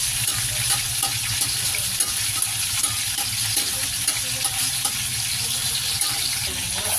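Garlic sautéing in a wok-style frying pan on a gas burner, a steady close crackling sizzle with occasional stirring scrapes running unbroken throughout.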